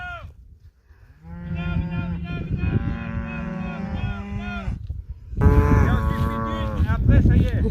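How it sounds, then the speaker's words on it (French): A herd of cows being brought back home gives two long, loud, close moos, the second rougher and louder, with faint background noise between the calls. "Allez, retour au bercail pour les vaches."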